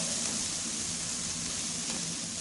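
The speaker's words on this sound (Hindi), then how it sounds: "टमाटर के गलने तक फ्राई कर लेंगे" Chopped tomatoes fry with salt, turmeric and chili in a hot pan, giving a steady, dense sizzle that stays close and even throughout with no talk.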